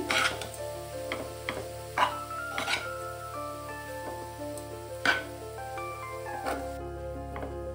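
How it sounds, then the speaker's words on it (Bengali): Grated carrots stirred with ghee in a pan for carrot halwa. A soft sizzle sits under sharp, scattered knocks and scrapes of a spatula against the pan, with steady background music. "এবারে গাজরটাকে ভালো করে ঘিয়ের সঙ্গে মিশিয়ে দিচ্ছি।"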